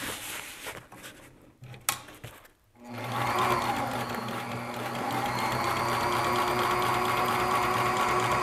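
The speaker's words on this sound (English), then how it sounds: "this walking foot machine physically moves so much that the whole table is" A walking foot sewing machine stitches through a teardrop camper galley end wall, revving up after a few quiet handling clunks into a loud, steady rapid mechanical chatter that runs continuously to the end.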